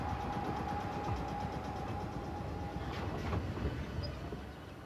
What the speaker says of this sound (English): streams of gleaming trains speed in and out of the city